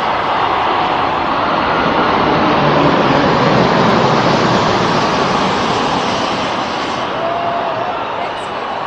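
Two Airbus A340-600 jets make a low pass over a crowded stadium, a loud, broad, continuous roar of jet engines sustained throughout, mixed with crowd noise.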